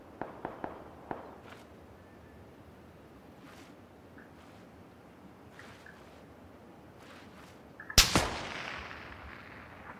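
Gunfire in the battle royale shooter PUBG: a few sharp, faint distant shots early on, then a louder, closer burst with a trailing decay near the end, over a steady outdoor ambient bed.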